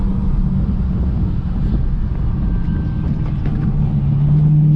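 Dodge SRT Hellcat making about 730 wheel horsepower, heard from a camera mounted near its exhaust while driving: a steady, loud low rumble with rushing wind noise throughout and no clear revs.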